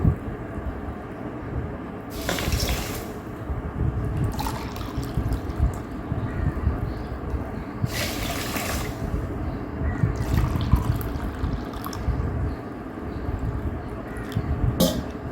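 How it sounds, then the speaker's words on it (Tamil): Two and a half cups of water are poured for homemade kuppaimeni and hibiscus leaf soap, with two distinct splashing pours standing out over a continuous background. "இதில் ரெண்டரை கப்பு தண்ணி ஊற்றிக்கிறேன் பாருங்கள்"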